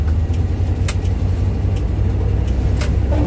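A 1995 GMC box truck engine idling rough, a steady, heavy low rumbling drone with slight unevenness, close and continuous with no talking.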